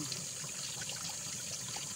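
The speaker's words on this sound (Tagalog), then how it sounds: "yung mismong tubig nandyan sa nanggagaling sa lupa oh. Maagos po siya." Spring water welling up from the ground on a farm lot flows in a soft, continuous trickle and gurgle, faint and steady, with no one speaking.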